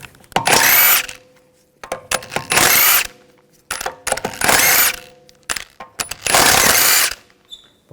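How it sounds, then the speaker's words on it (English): A power wrench with a 17mm socket spins lug bolts off the rear wheel of a 2011-2018 Volkswagen Jetta: four loud, close whirring bursts of about a second each, separated by short quiet gaps with small metallic clicks. "Using a 17mm socket, take the lug bolts out."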